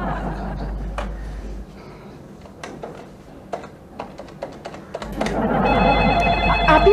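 A telephone rings in an office scene, with sharp clicks and tapping early on and a louder electronic ring swelling near the end amid voices and light laughter.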